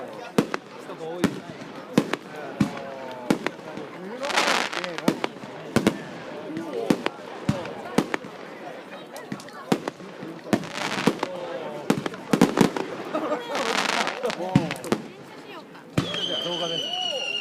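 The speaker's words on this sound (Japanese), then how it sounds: "遠いところから小さい花火見るときは" New Year's fireworks burst over Odanaka Kasamatsu in Tsuyama. Sharp bangs and crackling pops repeat throughout, some distant and some louder, while people talk and react nearby.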